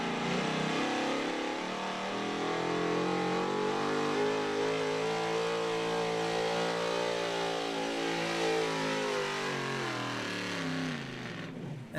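A pulling truck from an enhanced street class roars down a truck and tractor pull track, its engine held at a loud, sustained rev whose pitch climbs and then sags near the end as the run finishes.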